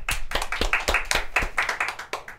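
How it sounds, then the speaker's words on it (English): Audience applause for a presenter in a broadcast studio, a short burst of brisk, irregular hand claps close by, with no talk over it. "Let's give another round of applause for Ashton."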